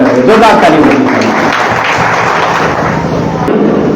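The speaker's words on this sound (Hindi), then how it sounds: "जोरदार ताली होनी चाहिए।" Audience applause at a Teachers' Day ceremony, a loud, dense, sustained clapping from a crowd with voices mixed in.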